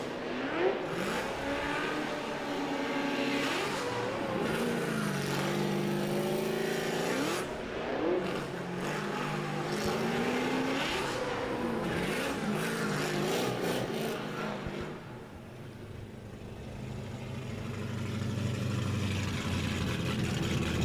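Drift cars at the Emirates Drift Championship on an F1 track, including a Nissan 350Z and a Nissan Silvia S14, rev their engines loudly and continuously with rising and falling whines, close by.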